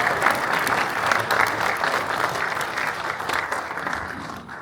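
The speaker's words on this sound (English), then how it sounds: "So big warm applause for Toivo Hakkarainen." Warm applause from an audience at a ceremony marking the installation of the 10,000th Axis camera, a steady dense clapping that holds at even loudness throughout without a break.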